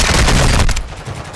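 A loud, close gunshot fired from a window in a video game, a sharp booming blast that rings and fades within about a second.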